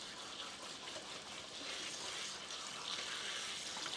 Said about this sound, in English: let me quickly rinse off my gloves here.